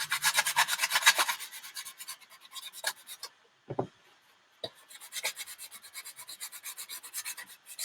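Sandpaper rubbed by hand over a Halloween mask to rough it up, close and loud, in fast rhythmic rasping strokes that pause briefly in the middle before resuming steadily.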